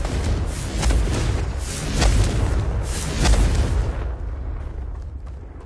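Confringo blasting spell explosions in Hogwarts Legacy, three heavy booming blasts about a second apart, loud and close, each with a rumbling tail, fading into a quieter rumble at the end.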